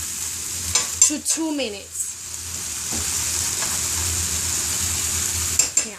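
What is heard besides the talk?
onion frying in a skillet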